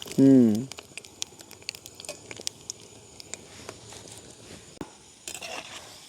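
Vadas deep-fry in oil at a village kitchen, a crackling patter of tiny pops and bubbling heard close, after a short burst of voice at the start.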